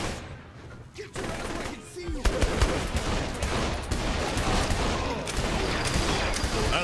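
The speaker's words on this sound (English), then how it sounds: "That would be a minigun." Sustained automatic gunfire from a minigun in Saints Row: The Third Remastered, a dense continuous rattle that runs for several seconds alongside game combat noise, with voices talking over it.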